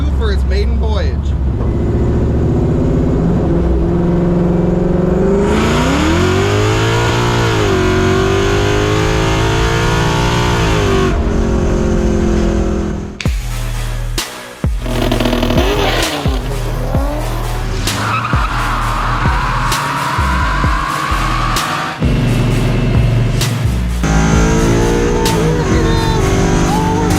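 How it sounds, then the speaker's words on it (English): A supercharged Ford Coyote V8 swapped into a Mustang II revs loud and close on its first drive, rising and falling in pitch through repeated pulls, with tire squeal and people talking over parts. "we take my Predator Supercharged Coyote swap Mustang II for its maiden voyage"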